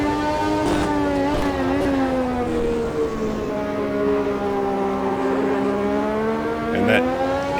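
A simulated Formula 1 car in the racing game Automobilista 2 holds a loud, high-pitched engine wail with a rich, whining tone that rises and dips slightly in pitch as it runs through gears and corners.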